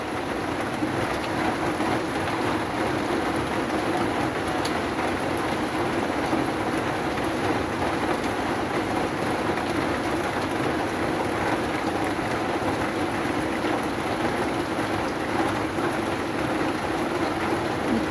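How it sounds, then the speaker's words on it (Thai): Heavy rain pours steadily on a rural pond, a dense, continuous roar of drops on water and surfaces that holds an even level throughout with no talking. "ฝนตกพี่น้องเลย"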